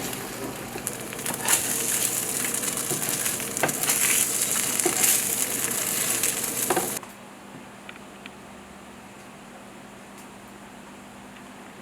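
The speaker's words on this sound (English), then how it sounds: "We just finished pan frying this." A seitan steak fries in a pan with a dense, crackling sizzle that holds steady for about seven seconds, then cuts off abruptly to a faint room hush.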